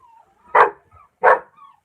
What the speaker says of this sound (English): I knew they were going to start barking, man.